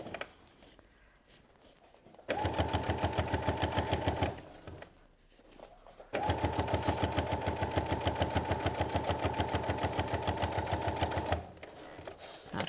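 Sewing machine topstitching fabric bunting: two long runs of fast, steady mechanical whirring and needle chatter, close and clear, separated by a short pause, with quiet handling before and after.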